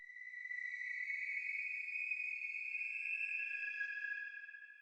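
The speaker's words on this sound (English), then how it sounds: "What I did next is actually reverse reverb the hell out of this melody." A Serum synth melody washed in heavy reverse reverb, sustained bright tones swelling in and gliding steadily for several seconds at moderate level, with no voices.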